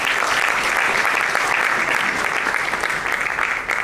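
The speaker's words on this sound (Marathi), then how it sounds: "तेजस्विनी आणि वर्धासाठी सुद्धा जोरदार टाळ्या" An audience claps at a trailer launch event, a dense burst of applause, loud and sustained for a few seconds.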